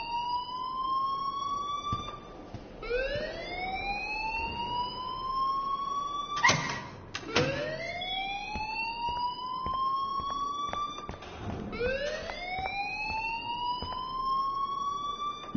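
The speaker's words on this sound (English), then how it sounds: "please turn off that alarm since that's your job" In the video game Life is Strange, an alarm wails with a loud whooping siren, each rising sweep repeating about every four seconds, with a few sharp clanks between cycles and no speech.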